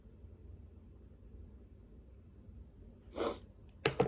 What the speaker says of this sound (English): I'm just sorry for the sniffling, it must sound gross.